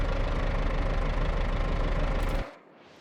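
A tractor with a cab and small crane idles in the RoadCraft video game, a steady low knocking engine chug that runs loud and even, then cuts off abruptly near the end.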